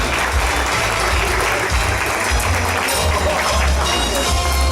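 Loud, continuous applause from a ceremony audience honoring a Management Man of the Year 2018 award recipient, dense and close throughout.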